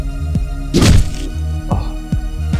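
Neck snap in Hotline Miami: a loud, brief crunching thud over a steady thumping synth beat, with a softer knock following.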